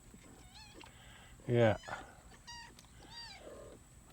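A mother cat meows near her kittens, a few short clear meows with one louder, longer cry in the middle, close by, with a brief word of human speech.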